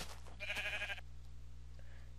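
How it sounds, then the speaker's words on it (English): A sheep in the video game Minecraft gives one clear, wavering bleat lasting about half a second, followed by a much fainter second bleat over a steady low game hum. "That sheep almost fell off there."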